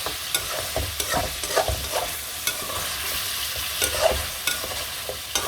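Beef trotters masala for Lahori paye fries in a pan while being stirred, giving a steady sizzle broken by repeated scraping stirs, close and fairly loud, with no voices.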